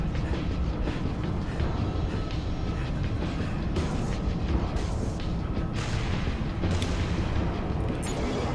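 Heavy defense turret fire in Halo: Reach, a continuous rumbling barrage of booming shots with dense low thuds sustained throughout, loud and close.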